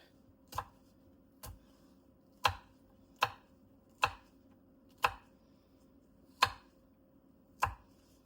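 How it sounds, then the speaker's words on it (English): Knife chopping jalapenos on a cutting board, eight crisp, evenly spaced thuds at a steady slow rhythm, close and clear with no talk. "we're going to take and chop our jalapenos"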